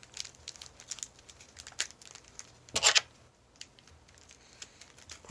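Foil trading card packs from the 2007-08 season being torn open, with close, irregular crinkles and crackles and one louder rip partway through, no voices.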